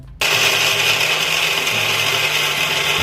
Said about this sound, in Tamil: இந்த அளவு அரைஞ்சதுமே நம்ம கருப்பட்டி இது கூட ஆட் பண்ணிடலாம். க்ளோஸ் பண்ணிட்டு அரைச்சு எடுத்துடலாம்.